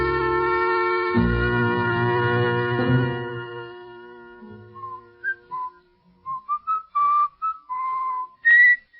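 A whistled melody with sustained, wavering notes, starting over a low musical backing that fades, then continuing alone as shorter separate phrases.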